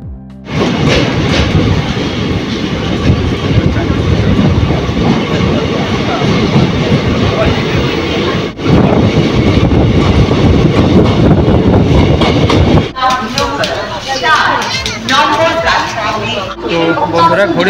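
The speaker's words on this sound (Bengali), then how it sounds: "আমাদের ট্রেন বিফোর টাইমে ঢুকে দিয়েছে নৈহাটি জংশন" A Lalgola passenger special train runs along the rails toward Naihati Junction, with a loud, steady rumble and rattle close by. The tone turns to a lighter clatter with rhythmic clicking over the joints near the end.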